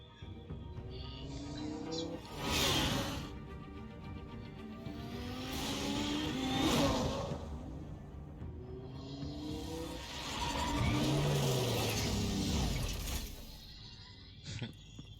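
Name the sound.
car engine driving in a Batman video game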